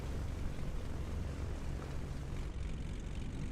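Beechcraft Bonanza piston engine droning in Microsoft Flight Simulator, a steady low propeller rumble held at an even level for the whole stretch, with no talking over it.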